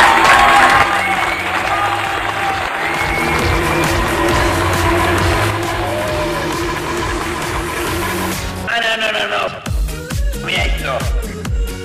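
A crowd applauds and cheers loudly for several seconds over background music, then the clapping breaks off and voices and music continue.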